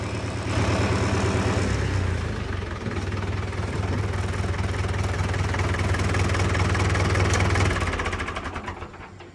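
A loader tractor's heavy diesel engine idles steadily with a low, rumbling knock for several seconds, then begins to wind down near the end.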